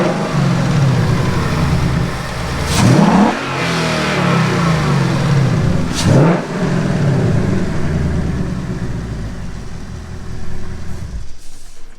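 A 2019 Mustang GT fitted with a JLT intake and tune revs up hard twice in loud, rising blips, then settles into a rumbling idle between them before a third shorter rise, close and dominant throughout.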